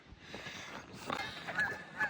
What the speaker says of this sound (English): I've upset a flock of Canada geese